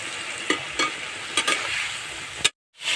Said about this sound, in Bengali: এখন অল্প করে জল দিয়ে আবার কষিয়ে নেব